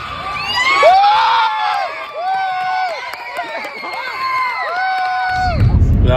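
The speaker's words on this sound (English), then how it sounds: "We screamed so loud" A crowd of children and parents cheers and screams at a youth volleyball team's first win, loud overlapping shrieks and whoops rising and falling for several seconds, with excited voices mixed in.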